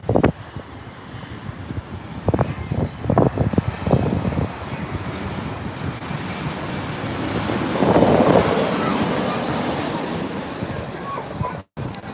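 Southwest airliner at Los Angeles International Airport, its engine roar swelling to a broad, steady rumble with wind buffeting the microphone, a few sharper thumps early on.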